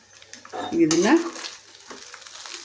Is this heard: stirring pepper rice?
yes